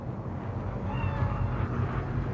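Cat meowing in the video game Cyberpunk 2077, a soft, brief meow drawn out over a low rumbling ambient background, moderately quiet and alone.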